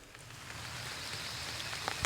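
Rain beginning to fall on a Mississippi public-land turkey hunt, a soft steady patter of drops on leaves and ground with a few sharper drop hits near the end, alone without talk.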